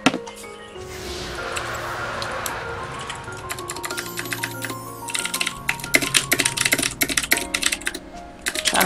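Loud, rapid typing on a clacky computer keyboard with blue switches, a dense run of sharp key strikes that grows heavier and more forceful toward the end.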